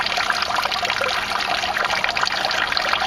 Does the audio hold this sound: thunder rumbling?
no